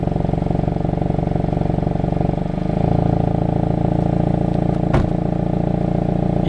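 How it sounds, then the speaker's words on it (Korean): Exhaust note of a 2019 Hyundai Veloster N Performance with a 2.0 gasoline turbo engine and six-speed manual, heard from inside the cabin as a steady, muffled engine drone that swells slightly partway through, with a brief knock near the end. "배기 사운드가 그 실내에서는 좀 작게 들려요"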